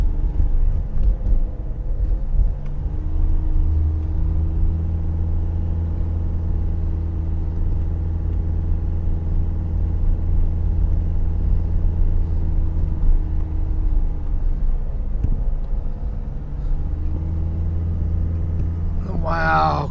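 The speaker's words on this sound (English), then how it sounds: "Car struggling to get up it." A car engine labours up a very steep street in Sydney, a loud, sustained low rumble that drones heavily throughout with only slight shifts in pitch.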